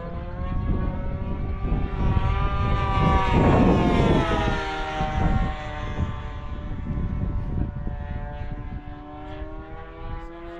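A glow-plug model airplane with an OS FX60 engine buzzes at full throttle as it circles overhead, its steady whine swelling loud as it passes close, then fading and shifting pitch with distance.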